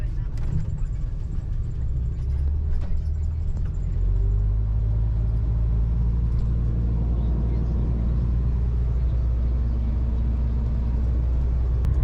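A van driving on the road after leaving a ferry, heard from inside: a steady low engine and road rumble that settles into a constant drone, with people talking over it.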